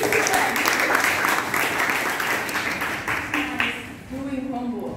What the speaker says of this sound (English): Give applause to our students.